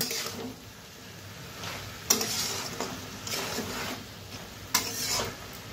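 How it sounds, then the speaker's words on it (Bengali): Kolmi greens frying with loitta shutki in a pan as water is poured in, a steady sizzle and bubbling with a few sharp bursts of hissing and light stirring scrapes, close and alone. "সবজিটাও মজে গেছে, তো অল্প পরিমাণে জল দিয়ে দেব।"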